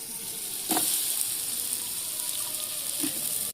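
Brinjal sizzles in a pan while it cooks, a steady frying hiss with a couple of brief stirring clatters. Nobody talks.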